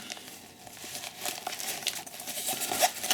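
A foil emergency blanket from a paramedic-approved first aid kit crinkles and rustles up close, in irregular bursts that grow busier and louder, with no talking.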